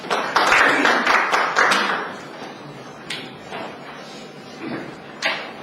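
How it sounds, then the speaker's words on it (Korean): An audience applauds to welcome a lecturer to a talk on performance-based fire protection design. A dense wash of clapping is loudest for the first two seconds, then thins and fades, with scattered knocks and shuffles afterward. "박수로 부탁드립니다."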